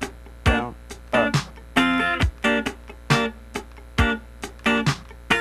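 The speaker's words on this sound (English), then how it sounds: "The whole thing together, played slowly," Funk rhythm guitar played slowly, with clipped strummed chords in an up-down-down-up pattern on the upper strings, a steady run of short bright stabs separated by brief gaps, close and clear with no talking.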